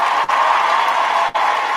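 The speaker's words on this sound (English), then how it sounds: "round of applause for Travis Hunter" A steady round of applause from a crowd, an even wash of clapping that holds loud and constant with two brief dips.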